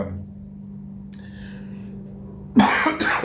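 A single short cough from a person with nasal congestion bursts out near the end after a quiet hum with a faint click.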